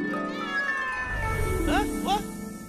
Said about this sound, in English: Where's that meow coming from?